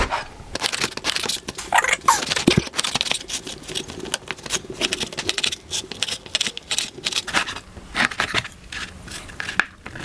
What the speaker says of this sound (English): now I'm just going to slice the bread into cubes